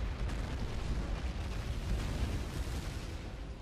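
Bombing in the World War II strategy game Sudden Strike 3 produces a dense, continuous low rumble of explosions, steady and moderately loud with no talk over it.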